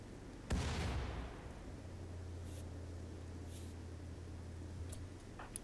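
A single mortar shot in RimWorld booms near the start, a sharp blast trailing into a hissing wash, followed by a steady low rumble and a few faint distant thumps.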